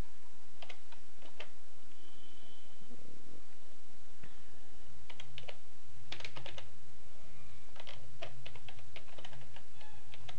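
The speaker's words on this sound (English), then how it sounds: "I'm typing" Fingers type on a computer keyboard in quick irregular bursts of clicking keys, close to the microphone over a low background hum, with no one talking.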